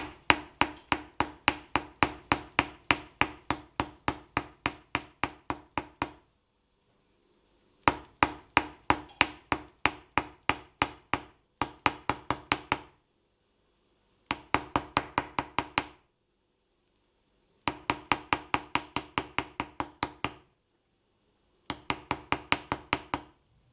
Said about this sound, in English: then just carefully hammer